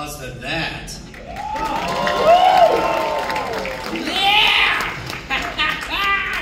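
Studio audience at a Late Night with Chucky horror-night show at Universal Studios clapping and cheering for Chucky, a broad sustained crowd roar with whoops and shouted voices rising and falling throughout.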